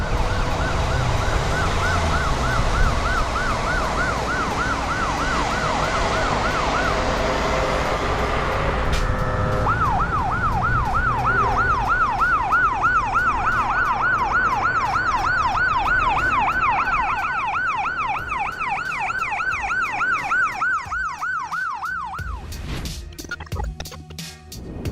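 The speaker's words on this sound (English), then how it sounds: "the ambulance has to move in the lane with the rest of the cars, even though the siren is on." An ambulance siren wails loudly and continuously in fast repeating cycles over heavy traffic noise, switching to a different wail pattern partway through before cutting off near the end.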